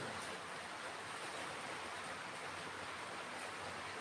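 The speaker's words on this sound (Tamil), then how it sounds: "மழை வர்றது" Steady rain falls as a dense, even hiss that fills the whole stretch without pause, with no talk over it.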